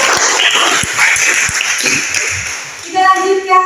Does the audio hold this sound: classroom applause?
yes